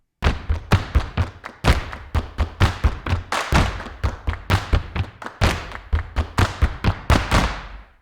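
Snap, clap and stomp samples played back in a large hall reverb, a rapid series of sharp percussive hits with deep thuds mixed in, each trailing a roomy echo, loud and without talk.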